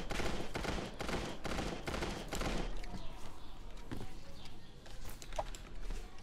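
Bursts of gunfire from a high-recoil gun in the Creative Destruction video game, several rapid shots early followed by scattered fainter shots, fairly quiet and muffled overall.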